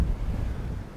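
Wind blowing across a microphone outdoors, a continuous low rumbling buffet that stays loud for the whole short moment, with no voices.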